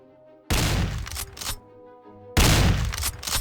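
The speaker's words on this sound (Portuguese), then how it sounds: "De repente, escutei barulhos de tiros vindo do norte da mata." Two loud gunshots ring out in a forest in a horror tale, each a sharp, heavy blast followed by a lingering rumble, spaced about two seconds apart, with no voices.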